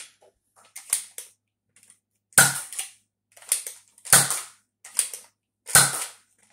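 An Adventure Force Jurassic World toy blaster firing, sharp snapping shots alone with brief mechanical clicks between them, three loud cracks spaced about every second and a half among smaller clacks.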